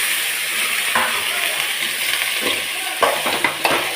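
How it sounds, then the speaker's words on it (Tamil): Chopped vegetables with salt sautéing in a pan for a snake gourd kulambu, a steady close sizzle with faint stirring scrapes and a few sharper clinks near the end. "நான் இதிலே போட்டு வதக்கிட போகிறேன்."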